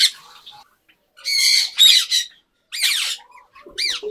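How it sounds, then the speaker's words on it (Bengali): A blue parrot squawks from a cage in several harsh, rising bursts spaced by short pauses, loud and close, with faint chirps between calls and no talking. "নীলটিয়া"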